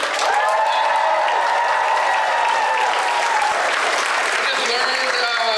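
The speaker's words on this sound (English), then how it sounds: "I need the applause if you can. Make some noise for me." A convention comedy-show crowd applauds loudly and continuously, with cheering mixed into the dense clapping throughout.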